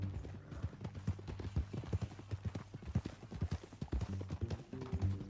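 Horse hooves clip-clopping at a steady walking rhythm in the Red Dead Redemption 2 video game, close and clear, with a low ambient drone and occasional game sounds beneath.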